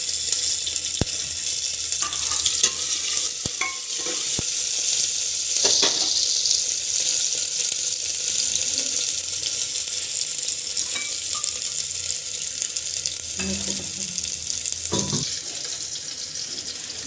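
Ginger and chili paste frying with cumin in a pan, a continuous bright sizzle that stays loud and close, with occasional clinks and stirring scrapes and no speech.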